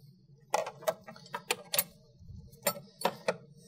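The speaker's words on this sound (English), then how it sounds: "we'll tighten that down with a 12 millimeter socket wrench." A 12 millimeter socket wrench ratchets as it tightens the 12V battery bracket on a Kia EV6, making irregular bursts of sharp metallic clicks close up.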